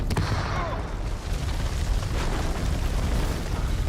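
A grenade goes off in the video game House of Ashes, producing a loud, sustained rumbling boom that fills the whole four seconds with dense, noisy low-end energy.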